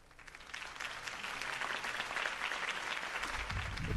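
A crowd in the video game Batman claps and cheers steadily, building in volume and sustained throughout, with a low rumble entering near the end.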